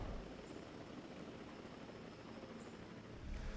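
A small aviary drone flies in Jurassic World Evolution 2, giving off a faint, steady whirring hum with a couple of soft swells near the start and end.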